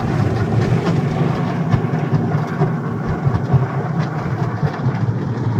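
Loud, dense rumbling roar of powerful car wash water jets pounding a Mercedes, continuous and close, with no speech.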